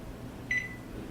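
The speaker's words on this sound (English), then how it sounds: "I'm going to set the timer" A single short electronic beep from an oven timer being set while muffins bake, heard once near the middle over a low kitchen hum, with no talking.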